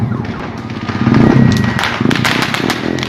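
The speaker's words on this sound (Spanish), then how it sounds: "estos fuegos artificiales" Fireworks over the Plaza Mayor of Ayacucho at Christmas, loud and dense, a continuous wash of crackling and booming bursts with a faint whistling tone, swelling in the middle and staying busy to the end.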